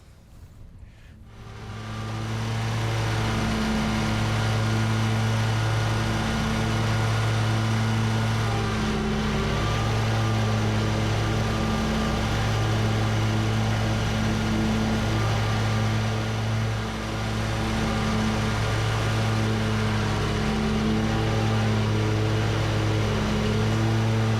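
A Toro Z-Master 4000 zero-turn lawn mower cuts tall wet grass. Its engine hums steadily and loudly throughout with a throbbing, slightly wavering drone that rises in pitch at the start, with no voices.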